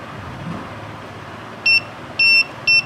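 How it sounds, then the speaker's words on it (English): A digital LED alarm clock beeps three times in short high-pitched bursts, the middle one longer, over a low steady background hum. "So now it is beeping."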